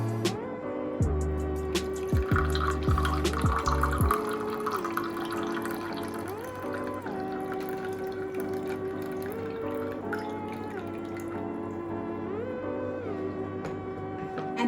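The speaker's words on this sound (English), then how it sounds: "So it's now time for us to pour our first cup of vervain tea." Freshly brewed vervain tea pours into a cup, a quiet steady liquid stream that runs for several seconds under a faint background hum, with no voices.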